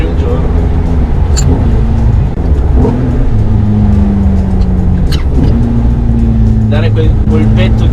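A Ferrari F430 with a six-speed manual gearbox converted from the F1 paddle-shift, its engine rising in sharp throttle blips during downshifts, close and loud beneath someone talking throughout.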